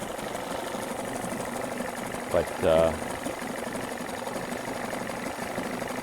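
A 1989 Evinrude 30 HP outboard motor idles low and steady in the background, a faint continuous hum with a brief spoken word partway through.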